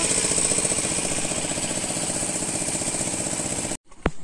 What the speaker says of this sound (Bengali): দেখো ফ্রেন্ডস, মেশিন চলছে, জল অনেকটাই কমে গেছে